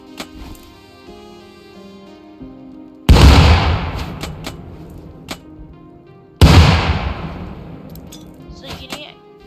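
Two loud grenade explosions in the video game Rust, each a sudden broadband boom decaying over a few seconds, with quieter gunshot-like pops between them and no talk.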